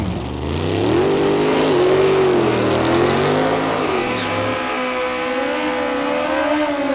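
At Orlando Speed World, a Mustang lines up against a motorcycle for an Extreme Class drag race, engines revving loudly with rising and falling pitch before a launch. A crowd murmur and a faint voice sit underneath.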